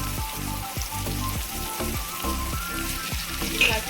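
Green chilli and garlic fry in a pan of oil as the base for chilli prawns, a steady close sizzle with crackling pops throughout and no talking.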